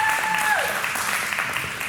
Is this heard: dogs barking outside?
no